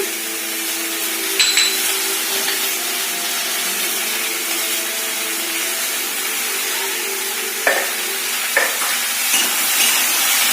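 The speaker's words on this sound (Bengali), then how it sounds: "ঝিঙে আলুটা ভাজা হোক" Ridge gourd and potato pieces fry in a pan with a continuous soft sizzle, punctuated by a few clinks and scrapes of stirring, with no talk.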